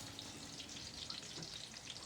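Garlic sautéing in cooking oil in a pan, a steady bright sizzle running continuously with faint crackles, close and fairly loud, with no talking.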